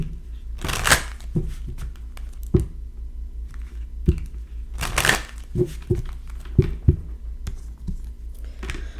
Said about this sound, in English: Let's pull cards for romance angels.